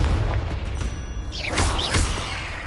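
Confringo blasting spell going off in Hogwarts Legacy, a muffled low boom with a couple of crackling bursts and a whooshing sweep near the middle, fairly loud and close, with no talk.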